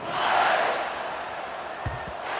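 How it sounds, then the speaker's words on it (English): A stadium crowd buzzes and roars at a Gators vs Texas college football game after a score, a broad sustained wash of cheering that swells early and then holds steady, with a couple of low thumps near the end. "this crowd is buzzing after that last score"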